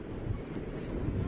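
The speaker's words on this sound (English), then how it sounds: "if they decide that it's too windy" Gusty wind buffets the microphone outdoors at a cricket match between the Philadelphians and NYC Titans, a rough, low rumbling roar that stays fairly steady across the short moment.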